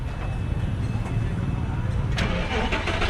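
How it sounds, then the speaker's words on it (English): A naturally aspirated 560-horsepower Lamborghini Gallardo V10 starting up close by, a deep rumbling low end building into a louder catch near the end, with people speaking over it. "The V10 roars into life."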